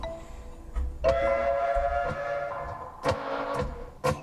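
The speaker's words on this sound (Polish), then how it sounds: "No, taki pociąg śmieszny." A whimsical train in the video game Figment toots and whistles in bright tonal bursts, with clanking rail sounds and sharp percussive hits between the calls.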